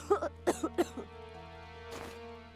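A sickly character in the video game Octopath Traveler II lets out four quick, close coughs, then a softer raspy breath, over quiet sustained game music.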